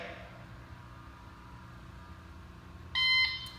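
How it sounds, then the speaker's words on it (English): A bright electronic shot timer app beep sounds once near the end after a stretch of low room noise, short and fairly loud. "That's my primary beep, and that's where I'm going to draw"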